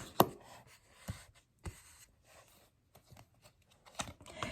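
Brief papery riffles and soft tarot card snaps come in scattered bursts with quiet gaps between, close by and fairly faint.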